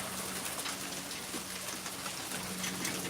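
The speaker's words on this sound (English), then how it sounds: "It's raining ice right now." Hail falls in a yard as a dense, steady patter of ice hitting the ground and surfaces, constant and fairly close with no pauses.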